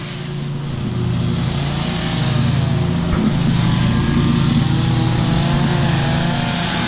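A car engine is held at full throttle, a loud, steady, droning roar that builds during the first second and then stays constant with no break.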